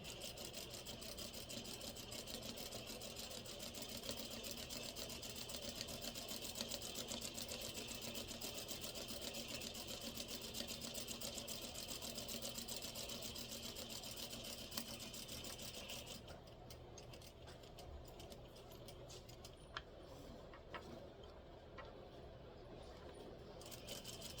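A sewing machine runs steadily while stitching a collar lapel, a continuous close whir that carries on for most of the clip before dropping to a quieter, thinner hum near the end.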